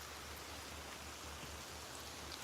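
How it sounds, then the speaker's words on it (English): Steady rain falling outdoors on a fishing outing, a soft, even wash of drops with no talking. "It's raining. I'm fishing in the rain."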